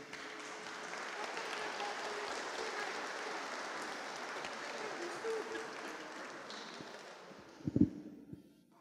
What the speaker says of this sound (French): nous pouvons les acclamer